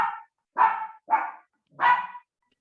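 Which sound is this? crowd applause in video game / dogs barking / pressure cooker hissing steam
dogs barking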